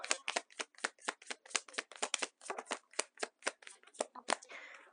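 A deck of oracle cards being shuffled by hand, a quick run of crisp riffling snaps and flutters in a steady rhythm, close and fairly quiet, with no voices.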